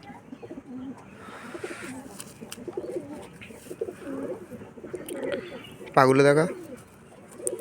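Pigeons coo in a loft, soft low calls scattered under someone talking, with one louder, closer warbling call near the end.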